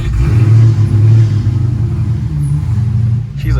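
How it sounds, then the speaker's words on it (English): A Dodge Hellcat fitted with a choppy cam rumbles loudly from inside the cabin, a deep uneven engine drone that swells with light revving and then eases off near the end. "we're gonna drive it around real quick and then send a log over to Jordan at Underground Tuning."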